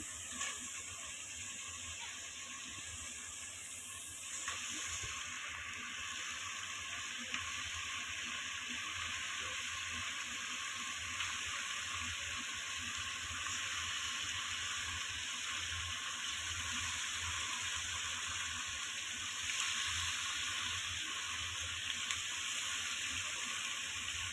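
About 2.5 kg of large beef pieces frying in a nearly cooked spiced masala: a steady, moderate sizzle close by, with a faint bubbling underneath and a few soft stirring bumps, no talking.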